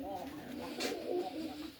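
Pigeons kept in a loft coo softly in a low, rolling murmur that continues steadily, with a brief brighter rustle near the middle, fairly close and moderately quiet.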